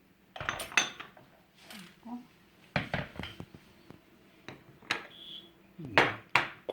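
Dried chrysanthemum flowers for chrysanthemum tea are dropped into an empty bowl, giving a few close, sharp clinks and light taps spread across several seconds, with quiet handling sounds between them.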